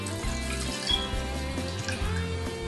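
About half a cup of water is poured into a pot of green curry made with coconut milk, a steady splashing pour lasting the whole moment over a low kitchen hum.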